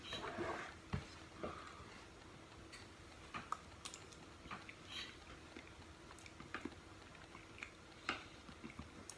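Someone eating a retort curry of whole eggplant and ripe tomato, with soft clicks, taps and chewing sounds scattered through a quiet room, faint and close, no talking.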